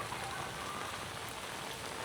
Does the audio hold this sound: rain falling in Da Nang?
yes